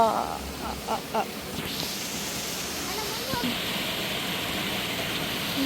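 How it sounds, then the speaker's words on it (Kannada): Man-made waterfall amid greenery, a steady broadband rush of falling water filling the scene, with a few brief louder bumps early on. "man made man made waterfalls"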